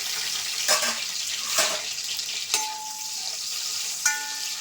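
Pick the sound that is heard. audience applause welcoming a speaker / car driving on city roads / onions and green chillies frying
onions and green chillies frying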